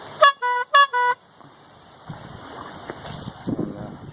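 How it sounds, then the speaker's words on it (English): A small bicycle horn mounted on a homemade coroplast electric boat gives four quick, loud honks in two pairs. Soft water and motor noise follow on the open water. "Little bike horn."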